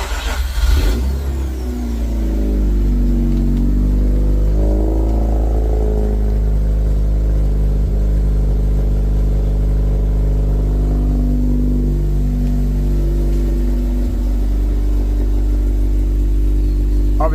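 A Mazda RX8 rotary engine with a Bridgeport port tune idles cold while warming up, a loud, close, steady buzzing drone after a short opening rev.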